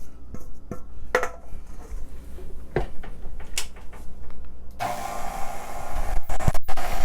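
A stand mixer whirs steadily as it mixes sweet potato pound cake batter, with clinks and knocks against the bowl, growing louder and denser in the last couple of seconds.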